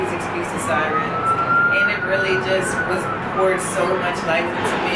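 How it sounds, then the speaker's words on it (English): A wailing siren rises and falls in the background while someone talks steadily over it. "Please excuse the sirens."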